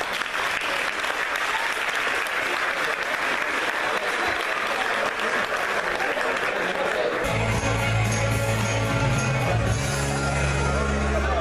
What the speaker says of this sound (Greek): θα ήθελα ένα μεγάλο χειροκρότημα για αυτόν